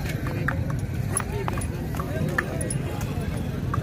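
Horse hooves clop in scattered, uneven steps at a horse market in Aminpur Bangla, Pakistan, under steady background talk and crowd noise.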